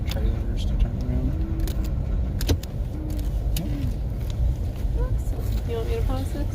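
A car drives through Parkman, Maine, its steady road rumble and engine hum carrying under people chatting inside, with a few light clicks and rattles.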